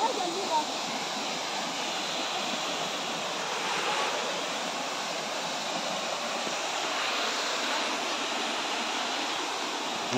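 Deep river water rushes steadily, a dense, even wash that fills the whole stretch at a moderate distance with no break.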